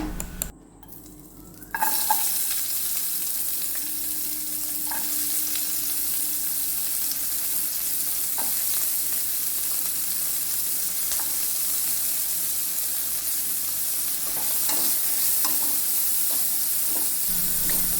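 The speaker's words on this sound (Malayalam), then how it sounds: "അതിലേക്ക് കുറച്ച് വെളിച്ചെണ്ണ ഒഴിച്ചിട്ട് ഞാനൊരു 10-15 കഷ്ണം ചെറിയ ഉള്ളി അരിഞ്ഞു വെച്ചിട്ടുണ്ടായിരുന്നു. അതിട്ട് കൊടുക്കാം." Chopped small onions crackle and sizzle in coconut oil in a pan. A steady, dense hiss starts loud about two seconds in and carries on evenly to the end, with no voices.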